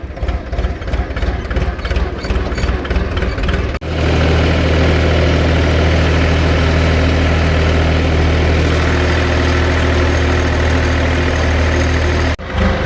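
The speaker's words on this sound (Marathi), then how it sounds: "वाजे ट्रॅक्टर आहे त्याचं." A farm tractor engine idles nearby with a loud, steady low rumble. It starts with a pulsing chug, then settles into an even drone.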